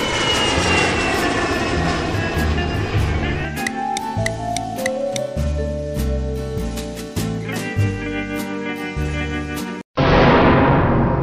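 Cartoon airplane engine sound effect: a loud, steady propeller drone with a throbbing, uneven rhythm, cutting out abruptly near the end before resuming briefly.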